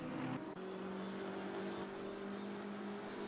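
A race car engine in the Baden GT Tour racing video game drones loudly and steadily, a sustained high-revving tone holding throughout with no break and no voices.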